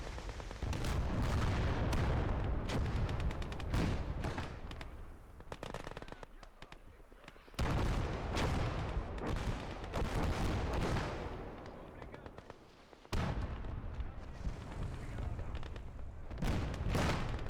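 Artillery barrages and gunfire boom and crackle almost continuously in the Gates of Hell war game, dense rolling explosions and rapid shots with short lulls and fresh heavy blasts, loud and layered.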